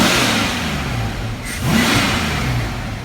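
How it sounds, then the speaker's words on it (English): A rebuilt car engine at operating temperature, revved a couple of times: a loud, close, smooth roar that swells, dips briefly, then surges again before easing back. "Let's give it a couple revs here."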